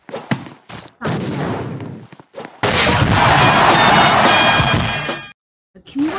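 Gunfire in the Roblox video game, heard as several short separate bursts and then one long, loud stretch of firing that ends suddenly.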